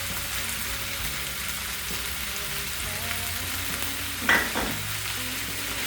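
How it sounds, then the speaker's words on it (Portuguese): A meat mixture with tomato, green herbs and wheat flour sizzles steadily in a frying pan while being stirred, a continuous close crackle with one brief louder scrape near the end and no talking. "Está mexendo bem mexidinho, você vê como funciona."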